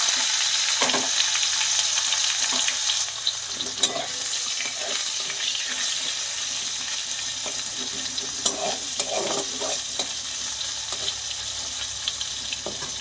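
Chopped tomato hits hot oil tempered with whole spices in a pan for a chickpea-lentil and jackfruit mince dish, giving a steady loud sizzle with occasional stirring clinks and crackles throughout.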